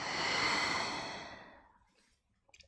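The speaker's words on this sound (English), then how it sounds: "Take a deep breath in into your belly and exhale, maybe even through your mouth." A deep breath exhaled through the mouth during a yoga stretching session, one long breathy sigh that fades out over about two seconds, followed by brief faint rustles.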